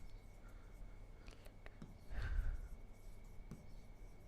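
Chalk or a marker scratches faintly on a board as a definition is written, with short strokes and taps and one brief louder rub near the middle, all over a low background hum.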